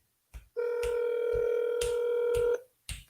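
Touch-tone keypad dialing a cold call to a for-sale-by-owner home seller: a steady two-tone beep held about two seconds, with short keypad tones just before and after, close and clear, with no talking.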